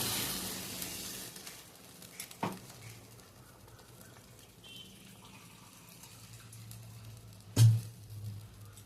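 Water poured into a hot pan of fried potatoes for a homestyle Bengali katla fish curry, hissing and sizzling steadily with a couple of sharp clinks from the utensil.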